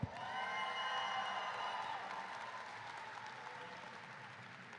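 Audience at a jump rope championship applauding an executive vice president, a broad crowd clapping with faint cheers, strongest at first and gradually thinning out.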